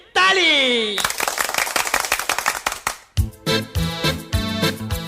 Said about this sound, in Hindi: बजाओ मेरे बंदर के नाम पे ताली।